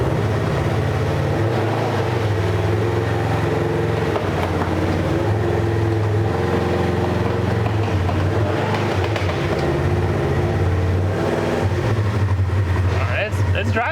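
A stuck 2021 Polaris RZR 1000 off-road vehicle's engine drones and revs steadily with a low rumbling hum as its wheels spin, continuous and close, with someone talking over it.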